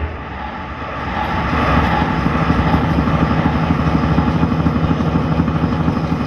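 A vimana carrying gods through the sky, rendered as a loud aircraft engine drone that swells in after a second and holds a steady, rough, throbbing roar.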